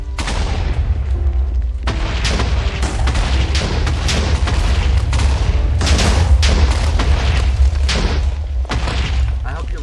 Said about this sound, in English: if a TNT explodes a regular TNT, another TNT, it will explode that TNT as well, making for a really fun explosion